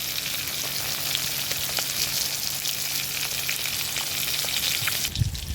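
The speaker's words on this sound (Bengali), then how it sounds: "মাছটা হালকা ভাজা হয়ে গেছে, এবার কালো জিরে দিয়ে দেবো উপর দিয়ে।" Fish frying with black cumin in a pan for a Bengali mustard-poppy fish curry gives a steady, dense, close sizzle with occasional crackles, ending in a brief knock near the end; no voices.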